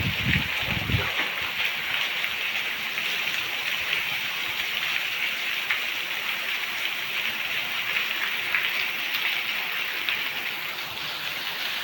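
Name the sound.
heavy rain falling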